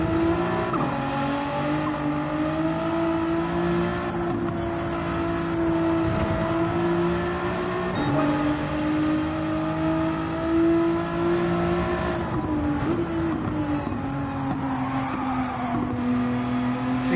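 A race car engine holds full throttle in a sim racing game, its loud sustained tone rising and dipping slightly through gear changes and lifts, continuous with no talking.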